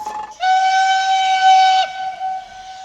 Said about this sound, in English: The whole thing controlled by whistles, because clearly they're too far away to talk.